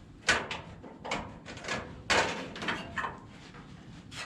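A front door panel is pulled off a clothes dryer during repair, producing several close scraping, clunking knocks and a louder rattle of sheet metal, with no voices.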